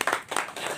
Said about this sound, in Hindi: मैं चाहता हूं कि आप लोग एक ताली बजा दें